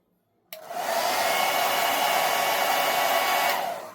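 A hair dryer switches on abruptly and blows a loud, steady, close airflow roar while heating the roots of a wig, then begins to fade near the end, with no talk.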